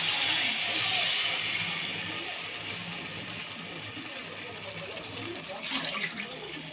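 Ragi milk pours into a cup in a continuous liquid stream that fades gradually, heard close up while a person talks.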